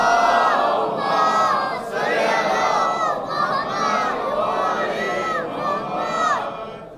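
A large crowd at a religious gathering loudly recites durood in unison, a dense, continuous mass of raised voices filling the space with steady intensity and slight swells.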